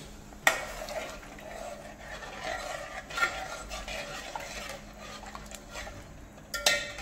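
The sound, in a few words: mixing cooked mutton into Kolhapuri tambda rassa curry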